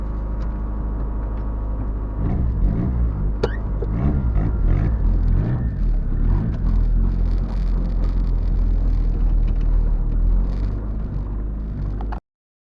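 A car engine with a hood exit exhaust runs loud and close at night, rumbling and rising in repeated revs over a heavy low roar before cutting off abruptly.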